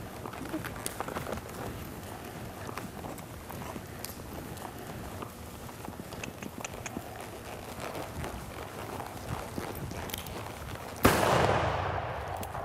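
Gunshots pop balloons during mounted shooting on horseback: a string of sharp, moderately distant cracks and pops over steady outdoor noise, ending in a louder broadband burst near the end.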